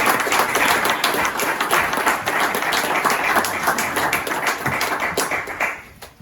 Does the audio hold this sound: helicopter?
no